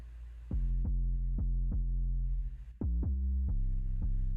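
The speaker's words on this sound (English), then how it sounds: "and the bass sounds like this" A deep, booming synth bass made from a timpani sample plays pitched hits at a steady pulse, each note thumping with a quick attack and a short boomy tail, sounding alone.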